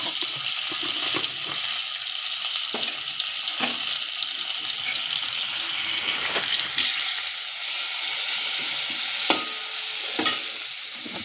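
Curry leaves, asafoetida and chillies sizzle and crackle in hot oil for idli sambar, a steady loud close frying hiss with occasional sharp pops and stirring clinks.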